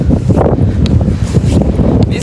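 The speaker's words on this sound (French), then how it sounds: "Je sais pas si ça se voit qu'il y a du vent" Strong wind buffets a microphone outdoors in loud, continuous rumbling gusts that overwhelm the recording, with a voice partly buried beneath the roar.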